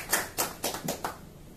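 A few people clapping in an LIC insurance office, five separate sharp claps spaced roughly a quarter second apart, close and fairly quiet with no talking.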